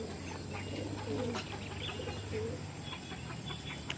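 Pigeons cooing close by, a low steady murmuring coo running through the clip over faint background noise, with no talking.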